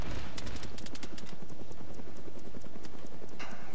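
A helicopter in a multiplayer shooter video game thuds with rapid rhythmic rotor chop, loud and close, holding steady before fading near the end.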